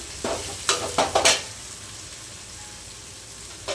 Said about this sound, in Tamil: இப்போ வந்து இஞ்சி பேஸ்ட்டு நல்லா வதங்கிடுச்சுங்க